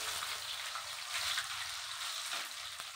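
Food frying in a pan with hot oil, a dense steady hiss and crackle at moderate volume, with a few faint clinks and no talk.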